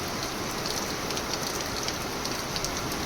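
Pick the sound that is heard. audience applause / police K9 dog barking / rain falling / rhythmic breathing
rain falling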